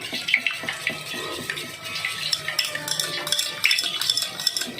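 Batter of flour, egg and water is whisked with a spoon in a bowl for a home-made chicken roll, giving close, steady scraping and clinking with faint wet slapping throughout.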